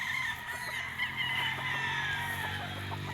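White Kelso gamefowl rooster at a game farm, crowing with a drawn-out call and clucking, fairly near and clear over faint background noise.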